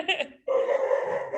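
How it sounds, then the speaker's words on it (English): A pet dog barks several times close by in a home, short loud yaps packed into the first half second, followed by a sustained growly vocal noise. "Sorry, that's my dog."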